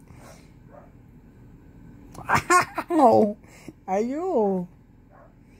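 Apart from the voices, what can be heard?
dog yapping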